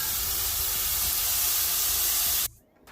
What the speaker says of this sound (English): It's not sticking, so just, you know, get it seared on one side and then we'll flip it over.